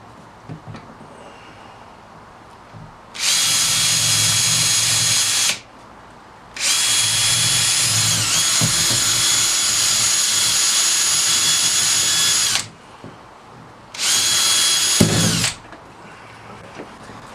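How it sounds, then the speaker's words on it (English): A power drill fitted with a 3/16 bit bores drainage holes for a vertical garden, whining loudly in three close bursts: a couple of seconds, a long steady run of about six seconds, then a short final spin, with quiet gaps between. "So once again I'm using a 3/16 drill bit here."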